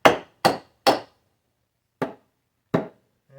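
Toenailing a nail into wood while framing a garage loft, using an awkward substitute for a claw hammer: five sharp, loud strikes, three in quick succession and then two more after short pauses, with silence between.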